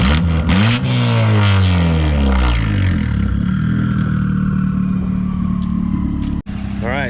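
A fully built Mazdaspeed 3 engine runs loud and steady, with a low revving drone that rises and falls near the start. It settles into a smooth idle hum and cuts out briefly near the end.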